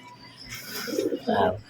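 Racing pigeons coo in short, soft bursts close by, with a louder throaty coo near the end.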